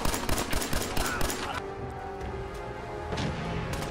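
Rapid gunfire in Fallout 4 rattles off in a quick string of sharp cracks during the first second and a half, then gives way to a quieter game background with a few scattered reports.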